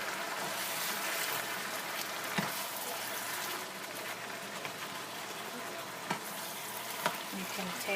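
Sautéed bottle gourd (ginisang upo) crackles steadily in a pan as it is stirred, with a few sharp scraping knocks of the utensil against the pan rising above the continuous sizzle.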